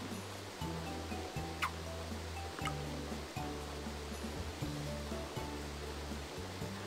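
Waterfall rushing in the Harvest Moon: Animal Parade video game, a steady broadband wash running throughout beneath a looping, rhythmic game music track.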